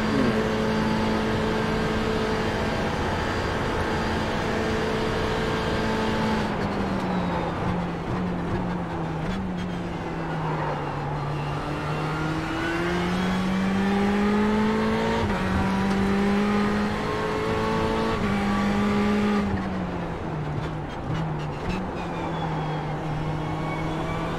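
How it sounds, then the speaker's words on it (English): A race car engine in the iRacing simulator at Daytona drones loudly and continuously, pitch holding near a ceiling with slight wavering as it sits against the rev limiter, with brief shifts and lifts along the way. "I'm bouncing off the rev limiter now."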